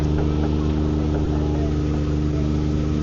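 On the Magic Kingdom Jungle Cruise, the tour boat's motor drones loud and close with a steady low rumble and rattling hum. The level barely changes, so no clear speed-up comes through.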